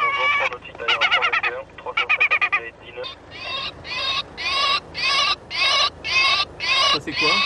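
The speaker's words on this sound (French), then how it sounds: "Ça, c'est le goéland argenté." A recorded herring gull distress call blares from airport loudspeakers at Paris-Charles de Gaulle, a loud series of harsh, wailing cries repeated in a steady rhythm of evenly spaced bursts.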